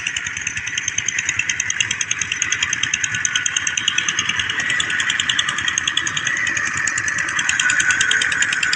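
A tractor engine runs steadily and loudly nearby, a constant rapid chugging throb with a whining drone over it, no pauses throughout.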